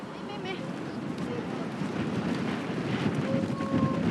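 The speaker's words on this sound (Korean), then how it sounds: "와, 이 바람 부는 거 좀 보세요. 좀 날아갈 것 같아요." Strong wind roars across a steep, rocky peak of Mount Hua in China, a continuous rushing gust at moderate level that grows slightly toward the end, with some faint background activity.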